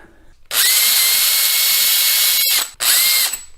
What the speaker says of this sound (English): So that drilling he did initially